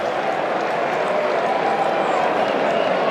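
Steady, dense crowd roar fills a cricket stadium during a New Zealand versus Australia T20 match after a big six, loud and continuous throughout with no distinct voices standing out.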